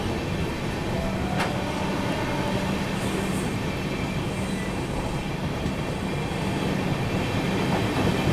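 Mahabodhi Express train rolling through Khurja Junction without stopping, a steady loud rumble of wheels and carriages with faint rhythmic clatter and brief squeal, continuous throughout.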